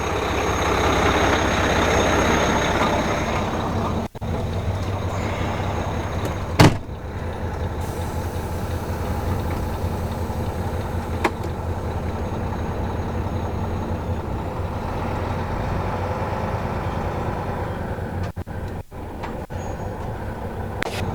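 A tractor trailer truck's engine drones steadily and close by as it pulls away after uncoupling, with a few clunks and a brief sharp knock breaking the continuous rumble.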